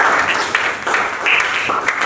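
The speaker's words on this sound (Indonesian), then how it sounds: "tepuk tangan untuk kita semua" A classroom group claps together in a short burst of applause that swells and pulses for about two seconds, close and fairly loud.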